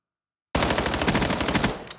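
A submachine gun fires in Call of Duty during a competitive match, a single rapid, loud automatic burst of about one second that starts abruptly after a short silence and then cuts off.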